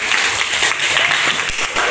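A group of students claps for their classmates during a classroom lesson, a short burst of loud, dense applause filling the space without pause.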